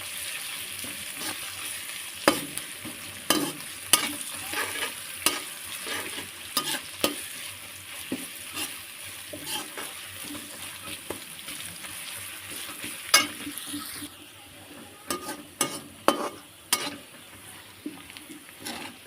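Onion and chili frying with ginger and garlic in a pan for a spicy Maggi pasta, a steady sizzle broken by repeated scraping stirs and clinks of the spoon, heard close with no talking.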